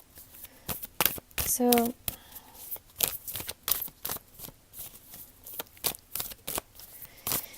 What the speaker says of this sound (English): I'm just going to start while I'm continuing to shuffle